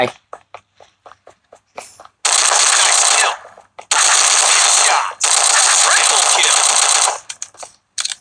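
Automatic gunfire rattles in a Netmarble shooting video game: loud sustained bursts of rapid fire alternate with scattered single shots, close and dominant, separated by short gaps.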